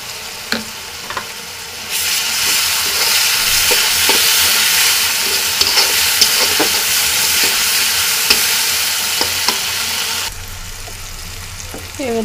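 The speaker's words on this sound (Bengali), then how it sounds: "দিয়ে কিছুক্ষণ এটাকে আমি নেড়ে নেব" Chicken with ginger paste is stirred in a hot pan, a loud bright sizzle that rises suddenly, runs steadily with intermittent spoon scrapes, then drops away near the end.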